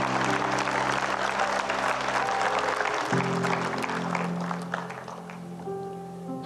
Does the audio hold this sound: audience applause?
yes